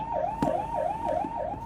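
An ambulance siren wails while the vehicle is stuck in heavy Delhi traffic at the Rajghat intersection red light, a close, loud, rapid rising-and-falling yelp repeating about four times, with faint traffic noise beneath.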